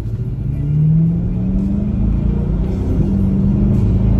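A 2020 C8 Corvette engine pulls steadily under acceleration from inside the cabin, a low rising drone and rumble that stays even and close throughout.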